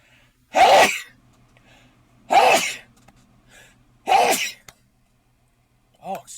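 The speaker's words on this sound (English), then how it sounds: "And I feel a sneeze coming on." Three loud, close sneezes come at steady intervals of about two seconds, each a sharp burst, followed by a brief vocal sound at the end.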